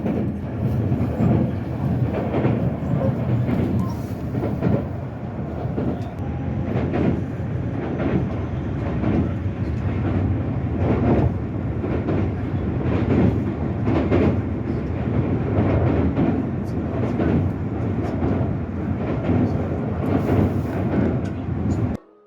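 Steady rumble and rhythmic clatter of a Tokyo subway train at night, loud and continuous with periodic wheel clicks, recorded up close and without talk.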